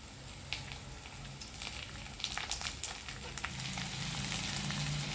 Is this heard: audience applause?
no